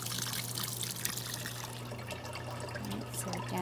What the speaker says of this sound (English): it's going to fill up again for two more rinse and spin cycles